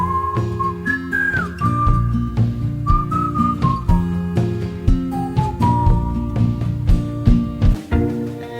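A musician whistles a bright melodic line over a lightly groovy folk song with violin, the clear sustained whistled notes sliding between pitches above the steady instrumental backing.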